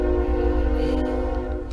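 A train rumbles past close by, with steady low rumble and sustained horn-like tones holding throughout.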